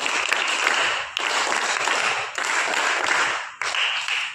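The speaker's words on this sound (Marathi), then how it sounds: "टाळ्या चांगल्या वाजवा" Students in a classroom clap in unison for a classmate, four loud group bursts of rapid clapping separated by brief gaps.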